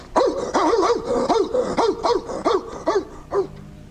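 A dog barks in a radio drama, a rapid run of about a dozen loud, close barks in an uneven rhythm with no talk over them.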